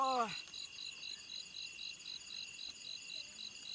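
Crickets chirp at night in a rice field in a steady, rapid pulse throughout, loud and continuous, after a brief swooping tone at the very start.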